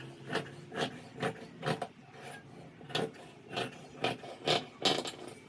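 Fabric pattern pieces for a birthday outfit are cut with scissors, giving about a dozen soft rhythmic snips and crunches, close and fairly quiet, with no talking.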